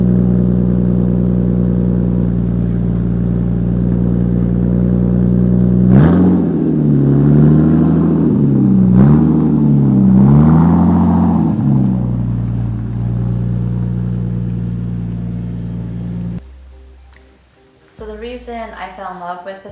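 A 1994 Toyota Supra with basic bolt-on mods, a 4-inch cat-back exhaust, blow-off valve, larger intercooler and intake idles with a deep steady drone, then revs in two or three loud sweeping pulls before settling; talking runs over it.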